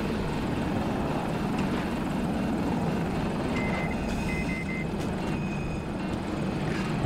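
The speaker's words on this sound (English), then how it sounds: "Oh, we got a chopper on our ass." Enemy helicopter closing in during a Battlefield 2042 match, a steady rotor and engine roar filling the scene at constant loudness alongside distant battle noise, with no talk.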